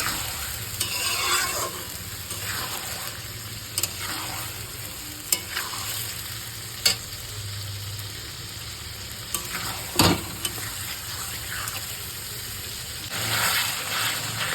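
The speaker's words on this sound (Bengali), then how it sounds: "এবার আমি এটাকে কষিয়ে নেবো" Marinated chicken stir-fried in an iron wok sizzles continuously while a utensil scrapes and stirs through it, with sharp metallic knocks against the wok at irregular moments.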